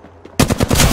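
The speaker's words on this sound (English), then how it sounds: "Getting shot at." A short, loud burst of rapid-fire shots erupts in an Apex Legends Arenas match after a brief quiet moment, the rounds tightly spaced and close.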